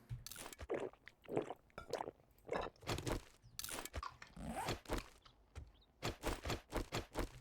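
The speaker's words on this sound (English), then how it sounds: "Chewing sounds, huh?" Repeated wet crunching and munching bursts in an irregular rhythm, close and fairly quiet, like a zombie or creature chewing in the survival game 7 Days to Die.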